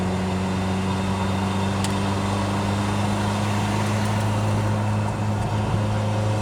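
A 1983 Lotus Esprit engine hums steadily from inside the cabin while the car is driven through the gears, a constant low drone with a faint, even road rush and no talking.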